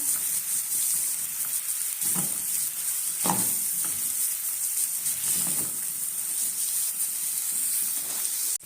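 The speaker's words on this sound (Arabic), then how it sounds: "هنقلبهم كده مع بعض كده. طبعا الكبده ما بتاخدش معانا سوا خالص، تشويحتين كده" Liver sautéing in a hot pan with peppers, a steady bright sizzle running throughout, broken by a few stirring scrapes and tosses of the pieces.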